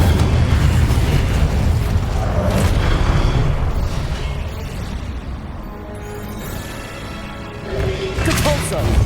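Casting the Incendio fire spell in Hogwarts Legacy on PS5 produces a sustained, loud roaring blast of fiery booms and crackling impacts that fills the whole stretch without pause, with no voices heard.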